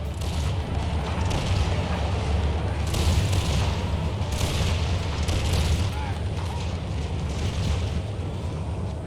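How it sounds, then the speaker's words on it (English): Howitzer fire in an Empire Total War battle rolls out as deep, continuous booming rumble with heavier thuds, under a voice talking over it. "Fusiliers taking heavy losses to a howitzer hit"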